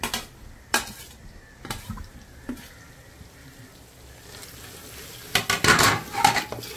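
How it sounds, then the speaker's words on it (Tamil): A spoon scrapes and clinks against a pot as seven or eight green chillies are added to a frying biryani base; sharp metallic taps come in bursts over a faint low sizzle, louder stirring near the end. "இப்போ நான் வந்து ஒரு 7-8 பச்சை மிளகாய் ஆட் பண்ணிரேன்."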